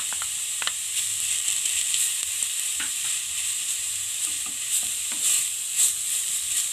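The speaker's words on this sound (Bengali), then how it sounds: "এবার ভালো করে নেড়ে নেব" Grated carrot and beetroot fry in a pan with a constant bright sizzle, while a spoon stirs through them in scattered scraping strokes close by.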